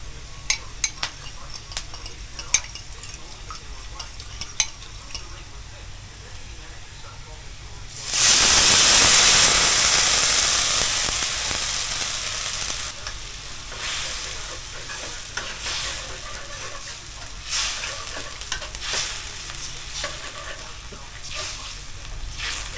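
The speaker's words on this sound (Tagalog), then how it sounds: "Ngayon may lalagay na natin yung ating sauce. So kailangan daw haluin natin mabuti." Escabeche sauce going into a hot pan with matang baka fish: a sudden loud sizzle and hiss that slowly fades, followed by scraping and stirring with utensils against the pan, with someone talking at times.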